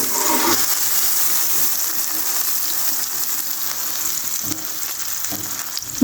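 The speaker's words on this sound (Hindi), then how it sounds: "ये थोड़ा सा मैंने मक्खन डाला और ऑयल, तो थोड़ा सा फ्राई कर लेते हैं" A club sandwich fries in butter and oil, giving a loud, continuous close-up sizzle throughout with a few soft clicks near the end; no talking.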